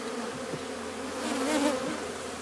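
A honey bee colony buzzing steadily during a hive inspection, a dense close hum that swells briefly, with no talk.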